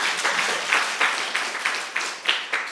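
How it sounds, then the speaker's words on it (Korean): A church congregation at a Sunday worship service claps together in a dense, fairly loud round of applause with a few louder individual claps, and no talking over it. "네, 박수 한번 해주세요."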